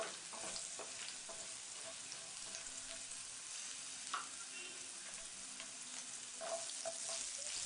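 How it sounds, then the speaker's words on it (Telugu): Chana dal frying in a pan makes a continuous close, crackling sizzle, with occasional light scrapes and clicks from stirring. "ఇలా 2 నిమిషాలు ఫ్రై చేసిన తర్వాత"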